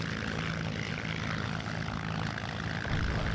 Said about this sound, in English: it seems I need to taxi all the way there.